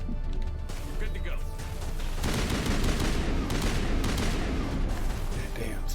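Gunfire in the Mass Effect video game, loud and sustained with rapid overlapping shots and heavy impacts, a thick barrage filling the whole stretch.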